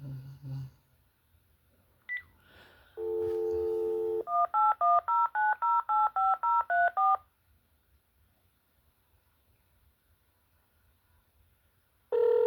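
A phone dials a simulated incoming call: a short beep, a steady held tone, then a rapid run of about a dozen distinct touch-tone beeps, followed by near silence and a final tone, with no talking.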